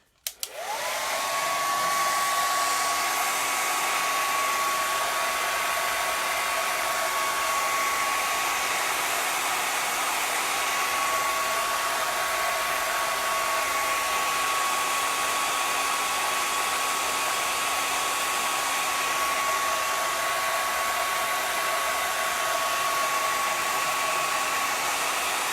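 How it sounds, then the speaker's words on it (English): A hair dryer blows steadily at close range over a painted board, a loud continuous whooshing hum with a high whine that holds unchanged after a quick start. "I'm going to grab my dryer, and I'm going to hit it with just a little bit of heat"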